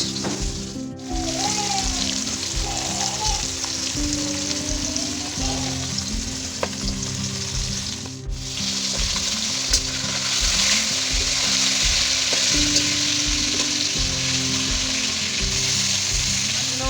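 Steady, crackling sizzle of pangas fish frying in hot oil, close and continuous, with a faint rhythmic hum underneath and no talking.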